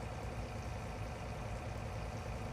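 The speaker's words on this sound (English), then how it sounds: "So we'll get him started, warm up the engine" A tractor engine idles steadily in Farming Simulator 19, a continuous low rumble with a mid-range drone, moderately loud and unbroken with no talk over it.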